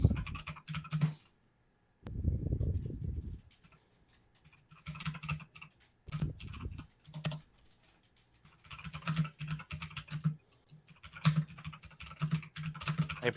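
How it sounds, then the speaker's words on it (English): Fierce typing on a computer keyboard, heard as bursts of rapid, close key clatter separated by short pauses, with no talk over it. "I hear fierce typing"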